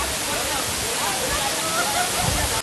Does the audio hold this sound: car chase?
no